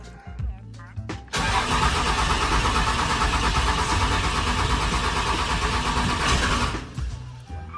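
Rebuilt Cummins diesel engine cranks for about a second, then catches and runs loud and steady with a broad roar for several seconds before dropping back, with a voice speaking briefly around it.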